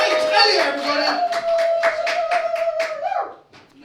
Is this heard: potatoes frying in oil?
no